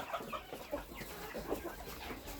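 A hen clucking softly among chicks and ducklings in a backyard poultry run, several short, faint clucks and peeps scattered over a quiet farmyard background.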